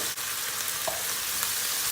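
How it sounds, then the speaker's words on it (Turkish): Loud, steady sizzling of carrots frying in a hot pan, a continuous crackling hiss with faint stirring scrapes, no voices. "Havuçlarımız kızarmak üzere"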